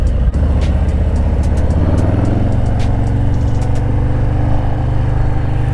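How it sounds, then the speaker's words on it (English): Engine of a 2021 Harley-Davidson Low Rider S running steadily close by, a loud continuous low rumble with faint mechanical whine and occasional small clicks from the gearbox, no speech. "You can hear the gearbox working. You can hear the gears"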